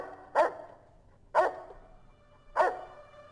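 Three distinct dog barks from the video game Fallout New Vegas, evenly spaced about a second apart, loud and close with quiet gaps between, no talking.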